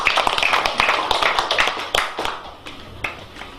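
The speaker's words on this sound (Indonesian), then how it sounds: "Tepuk tangan." An audience at an award ceremony for a creative-economy grant handover claps in a dense, close patter of hands that thins out into a few scattered claps toward the end.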